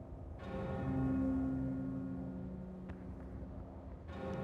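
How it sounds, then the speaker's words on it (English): A large bell rings in the video game Jade Empire, a sustained resonant tone that swells and then lingers steadily at moderate volume with no voices over it. "Sky better have a good reason for ringing that bell."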